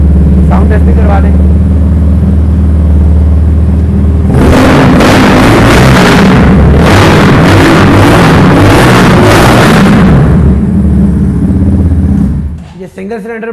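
A single-cylinder motorcycle fitted with an SC Project exhaust idles loudly up close, then is revved hard in a series of rising and falling bursts for several seconds before dropping back to idle and cutting out.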